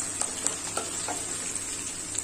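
Onions sautéing in a pan for lentil dumpling curry, a soft steady sizzle with faint stirring clicks, quiet and close.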